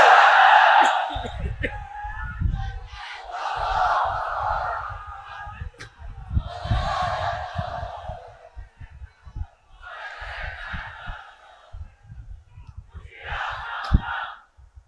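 At a large Islamic religious gathering (mahfil) in Chunati, Chittagong, a crowd roars the takbir response in repeated loud bursts, each swelling and fading, with several waves of massed chanting voices in succession.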